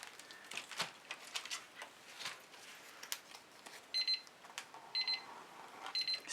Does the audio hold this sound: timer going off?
yes